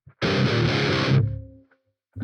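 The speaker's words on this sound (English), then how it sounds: "Fast delay, that's what I'm hearing." Electric guitar played through a Vox ToneLab EX with fast delay and distortion, a loud sustained strummed chord about a second long that decays into trailing repeats, then a brief new attack at the end.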